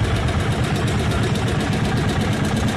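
A vintage snowmobile engine running at a snowmobile race and show, a loud, steady, close idle with a fast rhythmic pulse and no talking.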